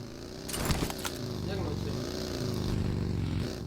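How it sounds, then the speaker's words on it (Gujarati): A buggy's motor engine in a video game hums steadily with a slight rise in pitch, like a small vehicle driving close by, and a voice speaks briefly over it. "એ બગી આવી જો આવી."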